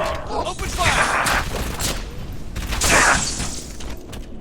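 Gunfire and explosions in Halo come in two loud bursts of bright crackling noise over a dense, busy battle din, with a voice faintly talking underneath.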